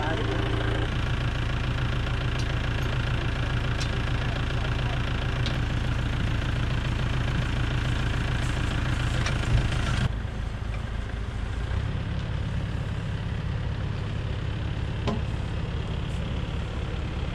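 A tractor engine drones steadily close by while it tows a caravan out. The low rumble stays continuous throughout and shifts slightly in tone partway through, with voices talking over it.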